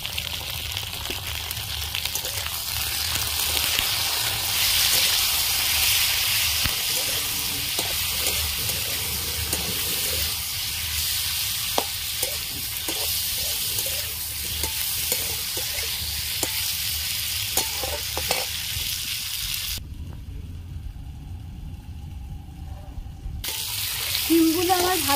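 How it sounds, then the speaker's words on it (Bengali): Green beans with turmeric fry in a pan, giving a steady, close hiss and sizzle with scattered crackles that drop out briefly before resuming. "শিমগুলো আমার ভাজা হয়ে গেছে।"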